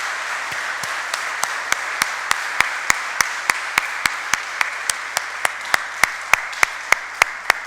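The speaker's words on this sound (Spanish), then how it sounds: "Vamos a dar un aplauso" A congregation at a Sunday church service claps in steady unison, with crisp beats evenly spaced about three per second over a faint room hiss.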